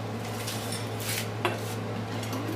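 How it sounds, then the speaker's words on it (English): Clinking of a sterilized metal ladle against glass jars and a pot while hot jam is ladled in, with a steady background hum and one sharper knock midway; no one speaks. "So I have my sterilized ladle, and I'm just going to start filling my jars."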